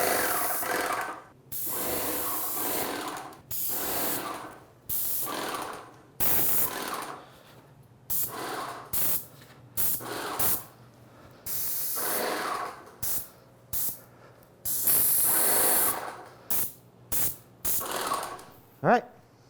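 Paint sprayer applying primer to the back of shaker cabinet doors: repeated close hissing spray bursts, long at first, then shorter on-off pulses with brief silent gaps between.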